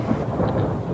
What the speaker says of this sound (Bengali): 4টের থেকে বৃষ্টি শুরু হয়েছে